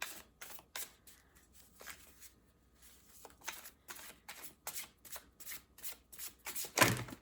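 A tarot deck is shuffled by hand close up, with repeated crisp riffling bursts and brief pauses between them, and no speech.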